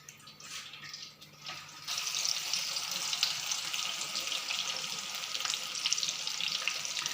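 Chapli kabab frying in hot oil, a steady loud sizzle that jumps up after a quieter start and then crackles on continuously, close by.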